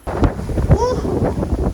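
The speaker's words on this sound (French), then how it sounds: "Et il y a bien un vent de malade." Strong mountain wind buffets the microphone with a rough, roaring rumble throughout, up close and loud.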